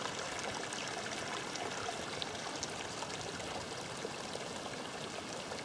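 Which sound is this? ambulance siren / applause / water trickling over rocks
water trickling over rocks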